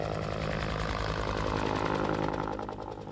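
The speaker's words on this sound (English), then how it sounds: "The sound of helicopter blades cutting through the air has become a familiar sound for Manitoba residents" A news helicopter over the 1997 Red River flood in Manitoba, its engine and rotor drone steady and loud throughout before easing slightly near the end.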